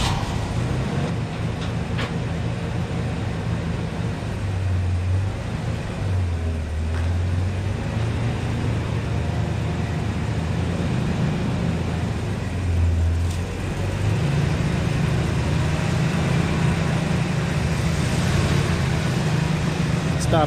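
A 1988 Chevrolet S10 Sport's engine runs to warm up, a steady low rumbling drone that holds for the whole stretch with slight swells in pitch, while someone speaks now and then over it.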